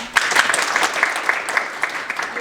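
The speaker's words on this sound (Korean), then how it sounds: "박수 많이 치시면 건강에 좋다고 그러시는데" Audience applause at a youth counseling welfare center's annual report meeting, a dense, steady patter of many hands clapping close up for a couple of seconds.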